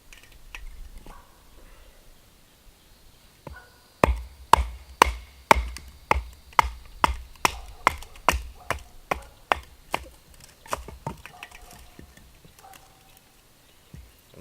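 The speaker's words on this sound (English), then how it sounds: "I'm going to take my knife and baton some wood" Knife batoned through a piece of wood to split kindling for open-fire cooking: a close, steady run of about a dozen sharp, evenly spaced cracking knocks after a quiet start, then fading back to soft background noise.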